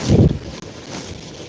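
Strong storm wind gusts and roars against the microphone, loudest at the start and then settling into a steady rushing noise.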